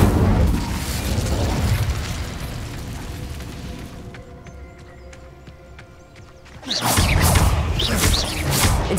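An Incendio fire spell is cast in Hogwarts Legacy, heard as loud, dense magical bursts and booming whooshes. They fill the start, fall into a quieter stretch of faint ticking, then surge back loudly at the end.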